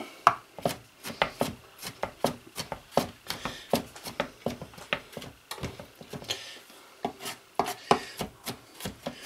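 A knife chops garlic finely on a wooden board for a pressed pork head terrine, with steady rapid close taps broken by brief pauses, no talking.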